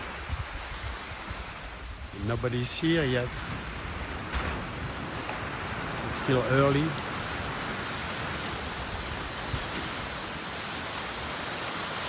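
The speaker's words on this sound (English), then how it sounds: "Here's the ocean." Ocean waves wash onto an empty early-morning beach as a broad, steady surf hiss mixed with wind noise, while a person speaks briefly twice over it.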